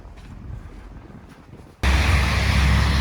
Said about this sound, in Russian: А у нас метель.